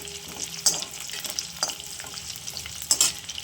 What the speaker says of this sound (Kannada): ಆಮೇಲೆ ನಾಲ್ಕು ಸೀಳ್ಕೊಂಡಿರೋ ಅಂತ ಮೆಣಸಿನ್ಕಾಯಿ ಹಾಕ್ಕೊಂಡಿದ್ದೀನಿ ಇದು ಒಂದು ಸ್ವಲ್ಪ ಫ್ರೈ ಮಾಡ್ಕೊಂಡು